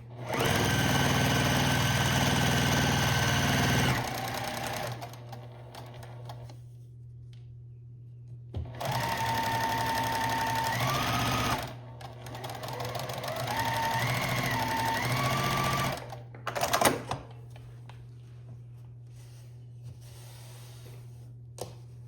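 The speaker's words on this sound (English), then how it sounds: "And then we'll stitch these together." Sewing machine stitching cotton quilt blocks together for a beginner baby quilt, running in steady bursts with pauses and a clunk between runs, its motor whine shifting pitch as speed changes.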